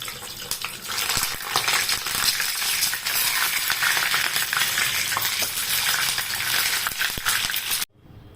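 Whole cumin, bay leaf, dried chilli, cloves and cardamom frying in oil in a wok, a dense, loud, continuous sizzle with a few faint clicks, cutting off abruptly near the end.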